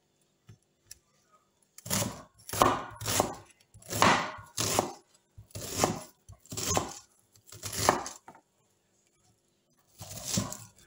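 A medium onion is chopped on a board in a series of close, rapid knife strokes, with brief pauses between the bursts and no talking.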